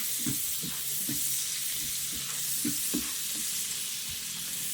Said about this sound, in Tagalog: Ginisa ko yung bawang sa pinagprituhan ko sa dilis